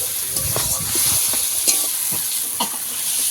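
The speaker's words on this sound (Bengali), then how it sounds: "2 মিনিট মাছের কাঁটাটাকে ভালো করে নেড়ে নেব মশলার মধ্যে।" Fish bones stirred and fried in spice paste for a Bengali fish kalia, with a steady close sizzle and repeated scraping stir strokes throughout.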